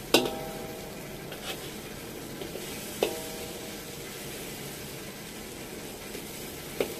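Ingredients for sambal lalapan pan-grilling in a little oil already used to fry shallots: a steady, soft sizzle throughout, with a few sharp clinks of a utensil against the pan.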